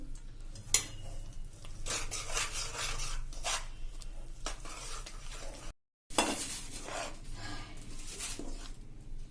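Fenugreek laddu ingredients are stirred together in a pan, a close, repeated scraping and rubbing of spoon against metal in uneven strokes, broken by one short silent gap, with no speech.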